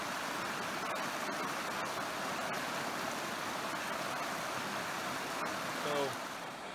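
Harper Creek water rushes and burbles steadily, a broad continuous wash of flowing water close by on a trail in the Wilson Creek Wilderness Area.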